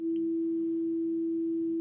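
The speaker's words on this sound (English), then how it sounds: "there's some tones that we can play" A steady pure electronic tone from a wave simulation program holds at one constant pitch, clean and unbroken for the whole stretch, faint in level with no voices.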